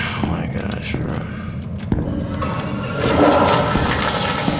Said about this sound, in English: Why do I feel like that ambiance just got more intense as I flushed the toilet?